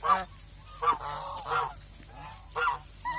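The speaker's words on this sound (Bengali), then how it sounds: "এই যে আরেকটা টোপলা হাঁস দেখাইতেছি" Crested ducks on a farm give several loud, nasal honking calls in separate bursts, fairly close, with quiet gaps between them.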